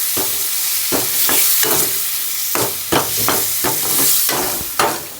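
A spoon stirs tomatoes with turmeric and salt through a meat curry in a village kitchen, giving repeated scraping strokes over a steady frying sizzle, close and fairly loud with no talk.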